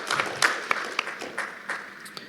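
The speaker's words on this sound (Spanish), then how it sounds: "Si lo creen, denle un fuerte aplauso al Señor." Church congregation clapping in praise during a bilingual service, a short patter of applause with a few distinct claps, moderately loud and fading toward the end.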